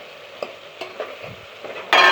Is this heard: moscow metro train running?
no